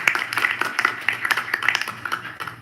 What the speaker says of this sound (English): Now This is a clapping.